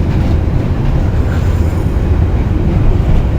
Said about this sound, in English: We'll just concentrate on this freight train now